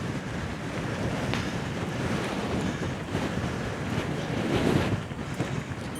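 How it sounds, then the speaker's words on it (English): Steady outdoor wind roaring and buffeting the microphone on a misty, hazy climb toward a summit car park, a continuous loud rush with gusts swelling and easing, no voices. "Wind's picking up now, as I imagined."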